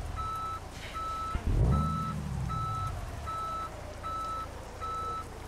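Peterbilt 389 truck in Euro Truck Simulator 2 backing a trailer, with a regular reversing beep repeating about every 0.7 seconds over a low diesel rumble and a brief deep swelling engine surge partway through.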